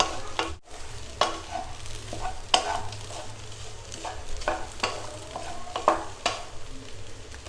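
Kothu chappathi with small chicken pieces being stir-fried and mixed in a pan, with steady sizzling and repeated scraping strokes of a spatula at a moderate, uneven rhythm, close by and with no talk.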